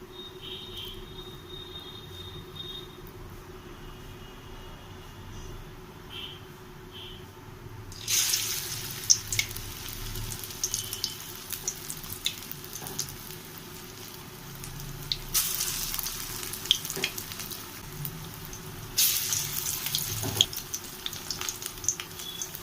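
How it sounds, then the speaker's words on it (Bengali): Bora fritters are dropped into hot oil in a wok, bursting into loud sizzling after a quiet start, with the frying hiss swelling and fading in waves and occasional stirring clicks. "তেল গরম হয়ে গেছে এবার বড়াগুলো ছেড়ে দেবো"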